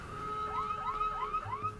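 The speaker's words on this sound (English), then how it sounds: "Although that is a pretty pathetic alarm." An alarm siren in the video game Resident Evil 7 wails in a rapid repeating rising sweep over a steady electronic tone, thin and fairly quiet.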